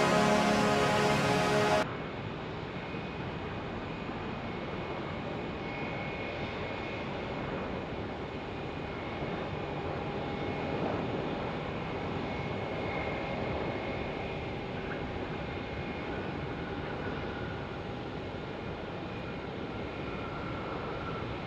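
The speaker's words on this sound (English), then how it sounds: "We got an Atlas Air 767." An Atlas Air Boeing 767 at Phoenix Sky Harbor airport gives a steady, broad engine roar with a faint whine running through it, sustained and moderately distant for about twenty seconds, with no talk.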